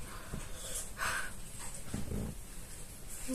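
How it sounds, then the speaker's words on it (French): A small pet dog snorts, breathes and whimpers close by at low volume, a few short huffs and snuffles scattered over a quiet room. "Nous avons un chien chochotte."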